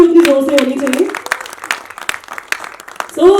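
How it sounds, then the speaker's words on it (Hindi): Scattered applause at a Hindi film trailer launch, a handful of distinct claps ringing out under someone speaking into a microphone, moderately loud in an event hall. "तालियां भी उतनी जोर से होनी चाहिए"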